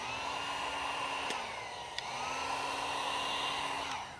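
A heat gun blows a steady, close whooshing whine while warming vinyl car wrap, its pitch dipping and rising slightly as it moves, with a faint click partway through and no talking.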